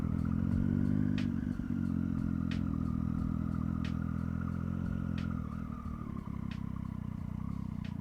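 Motorcycle engines idling and rumbling at a Japanese-car meet, a steady low throb with faint periodic clicks, fairly near and continuous without talk.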